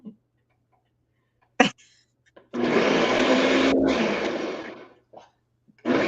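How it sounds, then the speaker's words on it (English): A Ninja Deluxe Kitchen System blender whirs loudly for about two and a half seconds, cuts out briefly and then starts up again, with a few short clicks and knocks before it begins. "I am using the Ninja Deluxe Kitchen System today"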